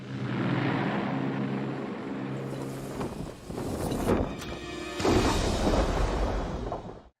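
Loud, steady roaring noise fills an aircraft cabin before a parachute jump, with a few harsher bursts and surges over the constant drone.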